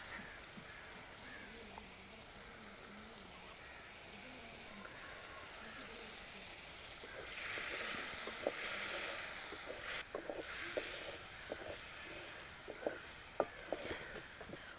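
Ground chutney paste for a leaf chutney frying in hot oil, a steady sizzle and hiss that swells louder partway through, with scattered small pops and crackles close by.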